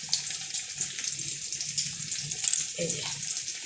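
A kitchen tap runs steadily as fresh coriander leaves are rinsed under it for lentil dal, a close, continuous splashing stream with a brief change as the leaves are moved.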